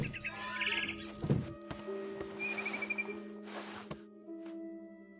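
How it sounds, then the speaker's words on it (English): A barn swallow chirps outside a window in the video game What Remains of Edith Finch, giving short high twittering calls over a steady droning game ambience, with a few soft thumps. "Then I heard chirping outside my window. It was a barn swallow going back to her nest."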